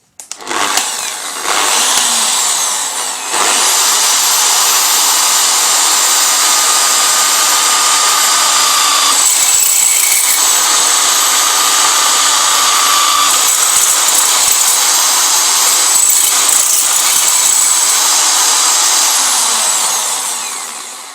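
A power tool drives screws into an aluminum and PVC snake rack with a loud, steady high-pitched whine that runs almost nonstop for about twenty seconds, with brief dips in between and no voices.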